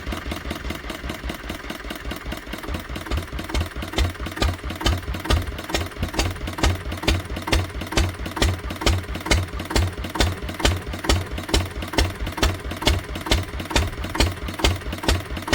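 Old Ruston Hornsby diesel engine idling after a cold start, a loud, close, rapid steady chugging with a pulsing knock that settles into an even rhythm, no voices.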